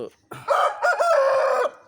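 An aseel rooster, an eight-month-old home-bred male, crows once nearby and loud. The call opens with a short rising note, then holds a long sustained note and ends sharply.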